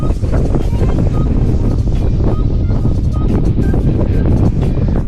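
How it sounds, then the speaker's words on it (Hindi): Strong mountain wind buffets the microphone outdoors at a scenic stop on a road trip back from Kaza, a loud, continuous rumbling roar with gusts throughout. "इतनी भयंकर हवा चल रही है"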